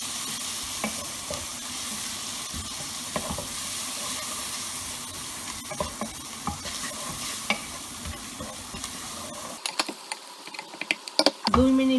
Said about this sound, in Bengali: এখন আমি চিংড়ি মাছগুলো দিয়ে দেব এবং একই সাথে এই সব মশলাগুলো দিয়ে দেব এবং চিংড়ি মাছটা পেঁয়াজের সাথে হালকা কষাবো।